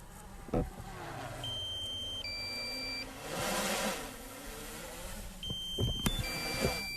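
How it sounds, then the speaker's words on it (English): Drone low-battery warning: short tonal two-note electronic beeps, heard twice, over a quiet steady whine of motors and wind. "Low battery warning."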